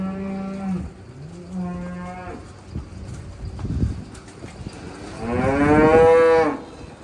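Cows and weaned calves moo repeatedly on a farm during sorting, several drawn-out calls near and far with a loud, long bellow near the end, and faint bird cooing with scattered knocks between.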